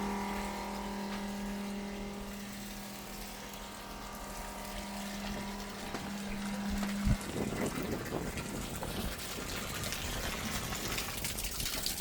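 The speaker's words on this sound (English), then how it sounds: "we have water. I'm gonna let it run like this for a couple minutes" Water running steadily through boat plumbing, a constant rushing flow with a pump's hum that cuts out partway, leaving the gushing water alone and close.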